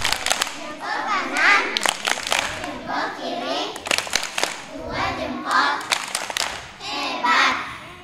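Children clap together in a rhythmic classroom cheer at a kindergarten, sharp repeated claps mixed with young voices chanting along.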